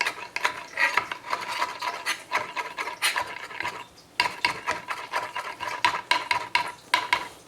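A knife rough-chops fresh parsley and cilantro rapidly on a cutting board, a rough irregular rhythm of crisp taps with a brief pause midway, close and fairly loud.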